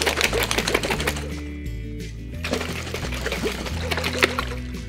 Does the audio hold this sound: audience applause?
no